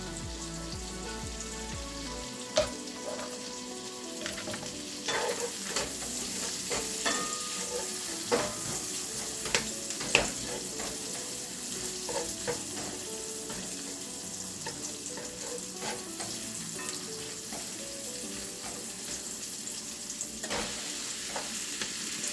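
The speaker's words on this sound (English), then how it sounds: "Put these few onions in here." Onions and mushrooms frying in a pan, a soft continuous sizzle with occasional clicks and scrapes of stirring, fairly quiet and close throughout.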